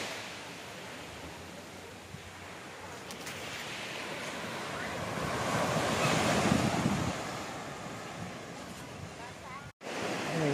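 Ocean waves wash onto the beach at Chaweng Noi on Koh Samui, a steady broad surf roar that swells in the middle, mixed with wind buffeting the microphone.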